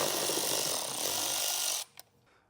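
A power tool whirs loudly and continuously for nearly two seconds while removing 8mm screws from a 2023 Jeep airbox, then cuts off, followed by a small click and quiet.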